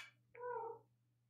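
A domestic cat gives one clear, drawn-out meow, close but fairly quiet, with a faint steady hum behind it.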